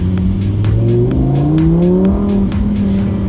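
A Lamborghini race car pulls away on a track in Miami, its engine rising steadily in pitch as it accelerates; the revving drone is loud, continuous and close throughout.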